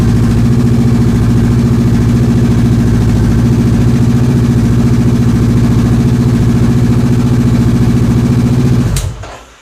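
Honda CBR500R 2021 motorcycle engine running close by at a steady, loud, throbbing idle for about nine seconds, then cutting off abruptly.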